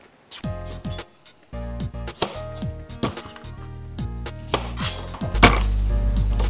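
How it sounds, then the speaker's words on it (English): Knife chopping bitter melon on a cutting board while preparing goya champuru, heard as a series of sharp knife strikes against the board in irregular bursts, close and fairly loud, with music playing underneath. "Cut the bitter melon in half."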